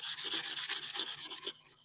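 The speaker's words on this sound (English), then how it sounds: "So you really got to start going to town on this and sanding this down." Bondo body filler is being sanded down on a car's bodywork, with rapid, rhythmic back-and-forth rubbing strokes close up, a steady scraping hiss pulsing several times a second for under two seconds.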